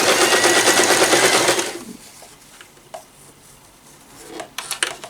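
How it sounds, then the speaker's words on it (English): A sewing machine stitching through cotton and food-safe PUL for a reusable bowl cover, a loud rapid close-up mechanical chatter lasting under two seconds, followed by quieter handling clicks and rustles. "You hold it down and you sew."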